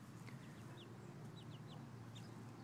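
A hen and her chicks in a yard, with soft clucks and a few brief high chirps scattered over steady low background noise, fairly faint.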